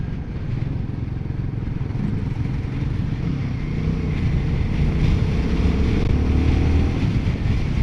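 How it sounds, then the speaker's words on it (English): Heavy, constant wind buffeting the microphone over a rumbling Royal Enfield Guerrilla 450 motorcycle engine, a loud roar that swells slightly midway and never lets up. "God, it's windy."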